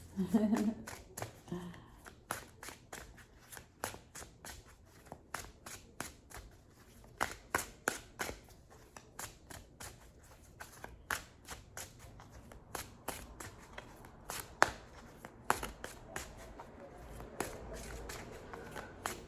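Tarot cards being shuffled in a quick, steady riffle of soft slaps and flicks, close to the microphone, continuing through the whole stretch with occasional handling taps.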